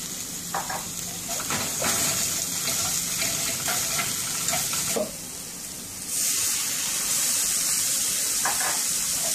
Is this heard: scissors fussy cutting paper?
no